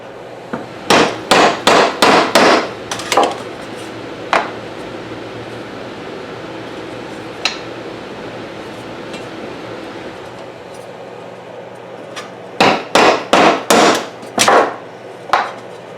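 A hammer taps out a dent on a Schuco Radiant 5600 in quick bursts of sharp metallic strikes, then a pause with a few isolated knocks, then another rapid run of close, ringing blows.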